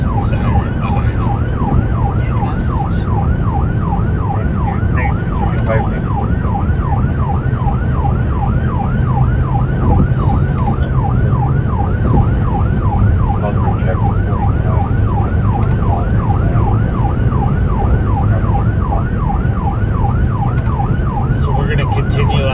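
A patrol emergency vehicle's siren cycles in a fast, steady yelp throughout, loud and continuous over heavy road and engine rumble from inside the moving vehicle.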